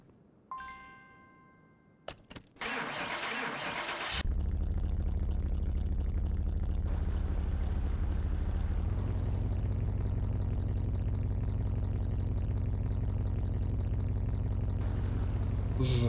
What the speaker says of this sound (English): This is the sound of a hybrid car, isn't it? Petrol diesel hybrid.